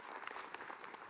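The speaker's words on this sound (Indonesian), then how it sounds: "Tepuk tangan buat Ustadz Arifin Nugroho" A brief burst of scattered clapping from an audience at a religious talk, faint and somewhat distant, with irregular hand claps throughout.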